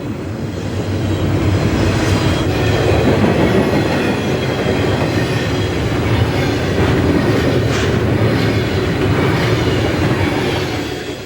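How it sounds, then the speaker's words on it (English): A Conrail train rumbles steadily past at close range, crossing over switches from one track to another, with rhythmic wheel clatter over the rails and faint squeals of metal throughout. "The dispatcher has set the switches to cross this train from Track 2 to 1."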